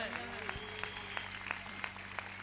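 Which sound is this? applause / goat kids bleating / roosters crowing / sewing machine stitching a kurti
applause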